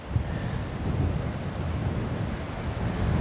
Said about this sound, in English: We still got a brisk northwest wind flowing.